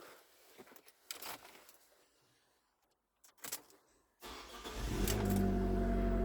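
A small Abarth car engine with a Record Monza exhaust fires up and settles into a loud, throaty idle with a deep rumbling exhaust, preceded by a few clunks and door sounds.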